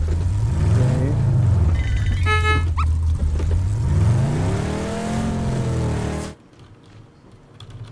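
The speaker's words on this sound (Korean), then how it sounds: "리얼 차 소리. 진짜라니까." A car engine in the battle royale video game PUBG revs loudly up and down in sweeping waves, holding for several seconds before cutting off abruptly and leaving quiet background.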